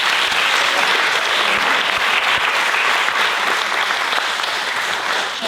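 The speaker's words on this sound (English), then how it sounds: "Please give a huge round of applause for FieldFound." A large audience at an entrepreneurship pitch challenge bursts into loud, sustained applause, a dense wash of clapping that holds steady throughout before easing slightly at the end.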